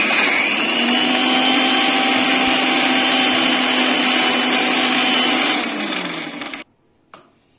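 An electric blender grinds spices with salt and turmeric into a paste, whirring loud and steady for about six seconds before spinning down and stopping, followed by a brief clatter.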